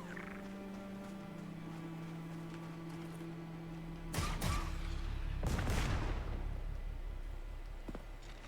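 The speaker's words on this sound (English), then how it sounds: "Grenade launch." A grenade launcher in Star Wars Outlaws fires amid the game's ambient hum, two sharp blasts around the middle, each trailing off into a rumbling decay, followed by a faint later crack.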